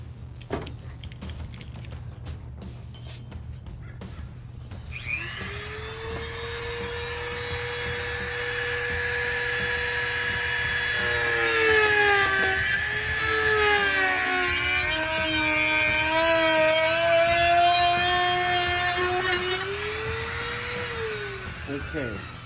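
Die grinder fitted with a plastic cutoff wheel cutting during a C7 Corvette GT wing install, a loud, steady high whine that holds for most of the time and dips in pitch as it bites.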